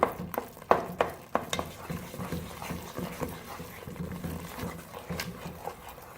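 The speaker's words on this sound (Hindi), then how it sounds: "पिसी हुई चने की दाल शामिल कर दी है घी के अंदर। साथ साथ हिलाते जाएंगे" Ground chana dal fries in ghee over a low flame while a spoon stirs it steadily, making soft sizzling and repeated scraping knocks against the pan, close and fairly quiet.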